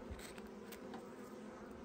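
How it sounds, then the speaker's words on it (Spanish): Black honeybees buzz steadily in an opened hive at a new apiary, a faint, continuous hum with small swells and no talk. "esto es una abeja negra, negra, negra."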